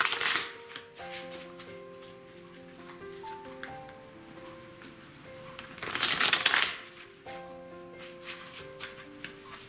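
Tarot cards shuffled by hand, crisp riffling bursts and soft slaps repeated several times, close and fairly quiet, with a gentle musical backing underneath and no speech.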